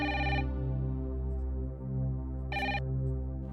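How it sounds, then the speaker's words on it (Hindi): Electronic telephone ringtone chirping in two short bursts separated by a pause, over a steady low tonal hum. "हो सकता है नाज़िया का फोन हो।"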